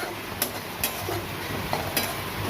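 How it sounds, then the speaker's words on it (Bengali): Peanuts dry-frying in an open pan for fishing bait, a quiet continuous crackle broken by a few light scrapes and clicks as they are stirred, close and steady. "শুকনো খোলাতে ভাজবেন।"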